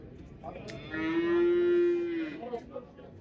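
A black cow lets out one long, drawn-out moo at the Lengir livestock market, loud and fairly close, rising and fading over a couple of seconds above a murmur of market noise.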